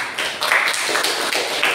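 Students in a classroom clap their hands in a quick, loud, close burst of rhythmic claps that lasts under two seconds.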